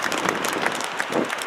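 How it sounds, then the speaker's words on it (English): An audience at a station grand opening ceremony claps in a dense, continuous burst of applause that fills the whole short moment. "Round of applause, thank you."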